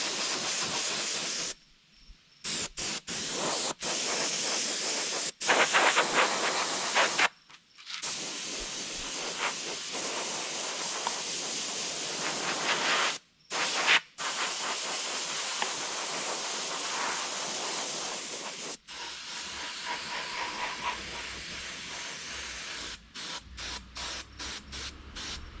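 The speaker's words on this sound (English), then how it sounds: "Then I spray the underside of my fish with a chrome pearl, avoiding the fins." Spray paint hisses in long steady bursts onto the underside of a northern pike fish replica, a chrome pearl coat, with brief pauses between passes and no voices.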